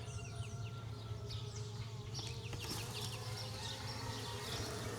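A dense, steady buzz of many swarm bees close by, building comb in a box, with faint bird chirps in the background.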